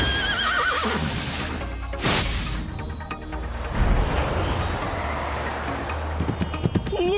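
The Rainbow Sky Horse, a magical flying unicorn in the LEGO Party video game, gives a loud, bright whinny, with hoof clip-clops and game music around it.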